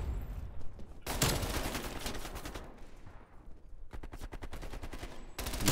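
Gunfire in the video game Black Ops Cold War with an MP5, loud rapid bursts of automatic shots separated by brief pauses, the last burst cut short.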